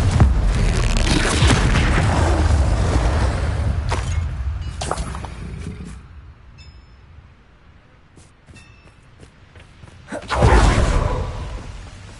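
A Bombarda spell in Hogwarts Legacy bursts with a loud booming blast and rushing whoosh that fades into a quiet lull before a second heavy explosion hits near the end.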